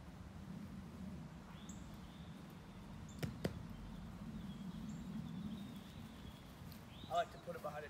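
An arrow shot from a bow strikes a target propped behind a chair, giving two sharp, quick smacks in close succession over a quiet room hum.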